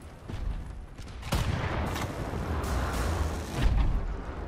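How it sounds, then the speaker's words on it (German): A grenade goes off in the shooter game Wolfenstein: The New Order: a sharp, loud boom erupts after a second of quieter combat noise, then a rumbling, crackling tail with further blasts follows. No one speaks. "Mal eine Granate hin."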